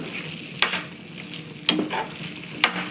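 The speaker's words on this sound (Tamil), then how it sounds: "அஞ்சு நிமிஷம் நல்லா வதக்கிட்டேன்" Food sizzles in a pan under a soft steady frying hiss while chicken gravy ingredients are sautéed, punctuated by three sharp clacks of a utensil stirring against the pan.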